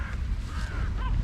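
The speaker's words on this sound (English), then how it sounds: "Here's our little crows amassing." Crows gather and caw, a few rough, hoarse calls close by over a low rumbling outdoor background, with no talking.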